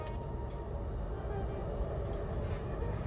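Delhi Meerut RRTS Rapidx train running, a steady rumbling roar with wheel and track noise, close and continuous throughout.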